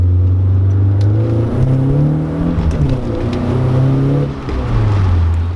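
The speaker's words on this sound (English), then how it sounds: "at the same time it idles really nicely" A BMW E36 engine runs at a steady idle, its low, even hum holding close and loud with slight shifts in pitch and no voices over it.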